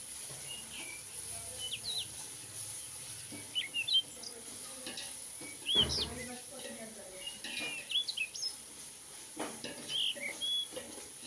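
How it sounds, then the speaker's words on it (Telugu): Ginger garlic paste frying in oil on a low flame while being stirred for mutton biryani, a faint, steady sizzle with soft scraping under several bird chirps from outside. "ఒక 2 స్పూన్స్ అల్లం తెల్లగడ్డ పేస్ట్ సిమ్లో పెట్టుకొని బాగా కలుపుకోవాలి."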